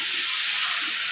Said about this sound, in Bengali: এখানে আলুটাও আমি ভেজে নিচ্ছি।